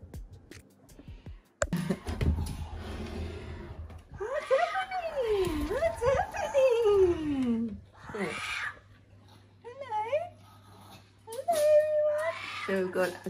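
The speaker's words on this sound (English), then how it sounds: "you can hear my kookaburras in the background" Kookaburras call outdoors with rising and falling, warbling laugh-like cries that swell and fade in bursts, moderately loud, with a voice talking over parts of them.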